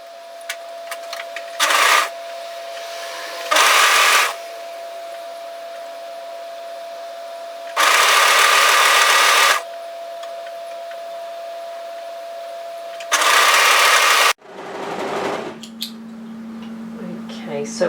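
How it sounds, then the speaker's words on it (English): An overlocker serges a fabric seam in four separate short bursts of whirring motor noise, each a second or two long, with quieter pauses between them. "we're going to overlock serge this side only"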